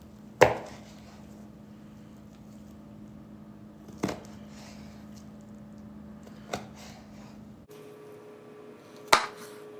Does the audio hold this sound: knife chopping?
yes